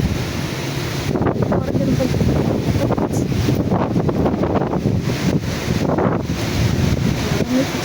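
Strong, gusty storm wind roars steadily into the microphone, a continuous buffeting rumble with no pauses.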